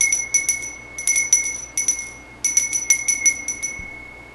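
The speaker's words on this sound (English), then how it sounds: "we ring the bell 3 times" A bright ritual bell rings in three separate bursts of rapid, shimmering strikes, clear and fairly close, with a faint low hum underneath, during a Wiccan Samhain ritual.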